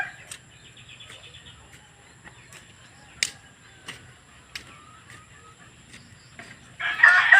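A rooster crows several times at a distance across a quiet rural yard, with clucking fowl and chirping insects around it and a brief louder burst of noise at the end.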